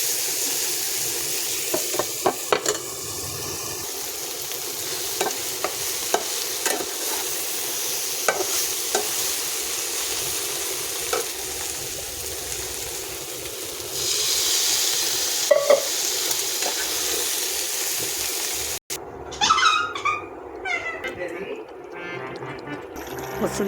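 Capsicum and soybean curry sizzles steadily in a pan, with scraping stir strokes and clinks from a utensil, then a brief pause before it resumes more unevenly near the end.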